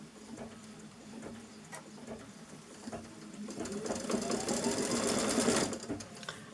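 A sewing machine stitching through quilting fabric, running at a steady fast rhythmic chatter that swells louder toward the end before stopping.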